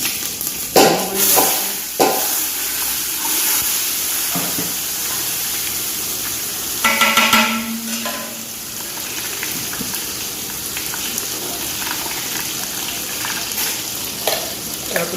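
Chopped onion frying in hot oil with dried red chilies and curry leaves, stirred in a pan while cooking a tindora and potato curry; steady close sizzle and hiss with a few scraping stirs early and midway.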